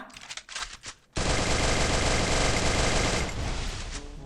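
Gunfire in the Free Fire video game, a few loud shots then a sustained, dense automatic burst that holds steady for several seconds.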